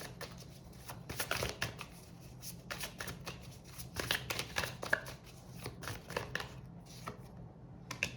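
Tarot cards being shuffled and drawn for a monthly horoscope reading, a steady run of close riffling and flicking card noises with brief pauses, no talking heard.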